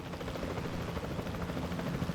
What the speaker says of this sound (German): kann ich den Heli bewegen?